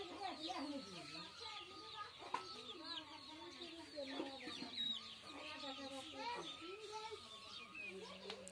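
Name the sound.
chickens clucking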